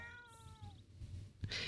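A cat meows once in The Sims 4 game with a rising, drawn-out tone, followed by a short burst of noise near the end over a low background hum.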